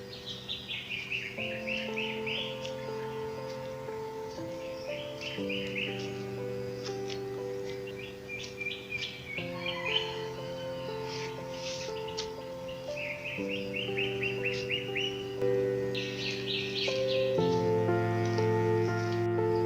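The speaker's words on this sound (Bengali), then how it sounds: "পাখিদের আওয়াজগুলো শুনছেন" Birds sing in a sal forest in Dinajpur, with repeated short chirping phrases at a moderate distance over a steady, sustained tonal background that runs throughout.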